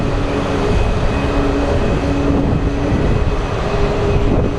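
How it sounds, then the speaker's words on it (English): A Boeing 777 jet airliner departing at Phoenix Sky Harbor International Airport, a loud, steady engine roar that fills the scene without letup, heard alone with no voices. "Big boy 777 departing."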